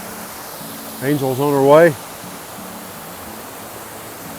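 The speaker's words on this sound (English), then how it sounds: "And there's our waterfall." A waterfall on the Appalachian Trail gives a steady, even rush of falling water throughout, with a voice speaking briefly over it partway through.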